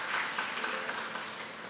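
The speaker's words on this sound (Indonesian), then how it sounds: "Beri tepuk tangan, saudara." Faint, brief clapping from a congregation at a Christian sermon, soft and diffuse throughout.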